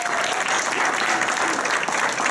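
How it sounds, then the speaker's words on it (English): An audience applauding the judges at a competition, a brief, steady burst of crowd clapping that holds even throughout with no break. "Let's give our judges a round of applause."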